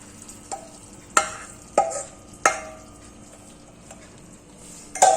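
Muscoth halwa, a Tirunelveli coconut sweet, being stirred in a pan: a few separate scraping strokes of a spoon against the pan over a faint steady sizzle, close and clear, with no voices.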